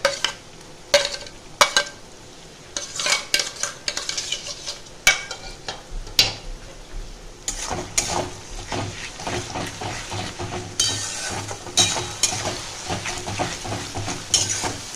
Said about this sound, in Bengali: এটা ভালো করে একটু কষিয়ে নেব।